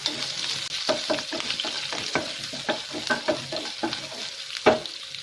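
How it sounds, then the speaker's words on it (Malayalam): Ginger, garlic and green chillies sauté in a hot pan, a steady sizzle broken by a series of sharp spatula scrapes and taps, close and alone without talk. "ഇത്ര ഇട്ട് നന്നായിട്ടൊന്ന് വഴറ്റിയെടുക്കാം."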